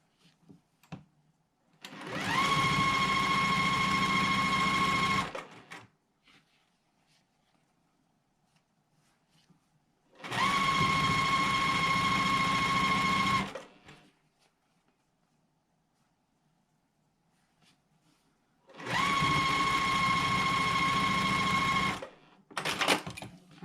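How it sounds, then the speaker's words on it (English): Sewing machine stitching rows of a quilt block together, three loud steady runs of fast even stitching a few seconds each, separated by quiet pauses, plus the start of a fourth. "So I'm just going to sew this row together, this row together, this row together, and then join those rows."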